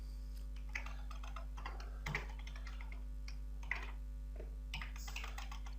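Keys clatter on a computer keyboard in irregular bursts of close clicks, with a steady mains hum running underneath throughout.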